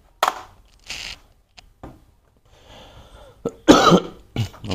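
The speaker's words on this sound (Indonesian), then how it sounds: "maaf saya sedikit batuk" A few harsh coughs at close range, separated by pauses and breathy throat sounds, the last ones loudest.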